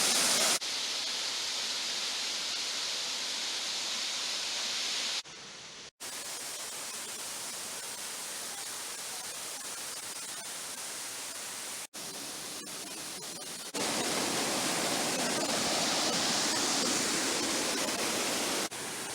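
Waterfall along a hiking trail in Galicia, a continuous hiss of rushing water that swells and recedes in level across several cut sections, with no speech.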